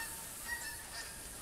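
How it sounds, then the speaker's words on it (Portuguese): Geese honking in the hunting game theHunter on the Richfield map, a few faint, distant calls in a thin, airy outdoor ambience, with no talking. "Gansos. Os gansos."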